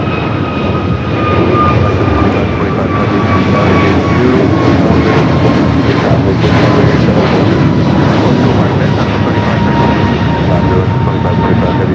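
A jet airliner taking off from runway 25 right at LAX airport roars loud and steady throughout, a continuous engine rumble with a high whine held underneath.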